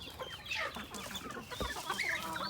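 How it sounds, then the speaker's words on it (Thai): Native Thai village chickens, including black-boned and Kum crossbreeds, cluck and chatter steadily in a farm flock, with overlapping calls from several birds close by over constant yard noise. "ก็ไก่พื้นเมืองครับมีทั้งผสมนะครับ"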